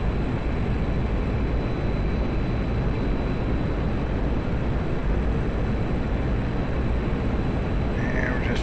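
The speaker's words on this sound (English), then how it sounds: "I'm going to give her a little throttle here, full throttle actually" A MiG-21 jet engine at full throttle in the DCS flight simulator, a loud, steady, broadband roar that holds constant and continuous throughout without any break.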